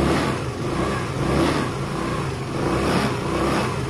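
A Sinnis Harrier 125 motorcycle engine runs after a new carburettor and electrical fixes, a steady close-up mid-range idle with mild swells in loudness and no talk.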